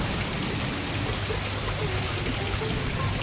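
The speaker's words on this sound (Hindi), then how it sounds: "बारिश हो रही है काफी धूमधार" Heavy rain pours down steadily during a downpour in Delhi, with water overflowing from a drain, a dense continuous hiss close by and no voices.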